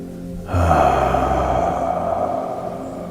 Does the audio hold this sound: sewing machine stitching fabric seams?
no